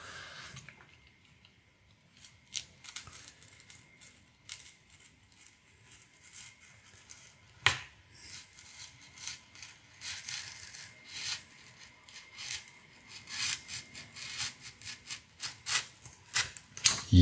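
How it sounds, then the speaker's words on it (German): Scissors cut through a piece of cardboard in a steady series of rasping snips and crunches, close and fairly quiet at first and growing busier and louder toward the end, with no talking. "Hauptsache, ich schneide auf ein Stück Pappe."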